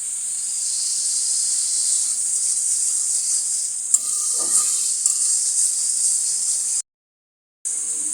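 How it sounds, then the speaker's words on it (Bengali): Fish frying in hot oil gives off a steady, bright sizzling hiss that holds evenly, with a faint clink partway through and a brief dropout near the end. "মাছটা ফ্রাই হয়ে গেছে"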